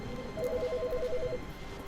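A telephone ringing in the video game The Stanley Parable, one rapid trilling electronic ring burst of about a second, faint under a steady room hum.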